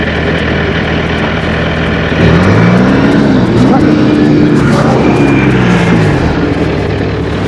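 Car engine revving as the vehicle is worked across snow on a high-altitude winter route near 8800 ft; a steady rumble rises into a sweeping rev midway and holds loudly, with voices in the background.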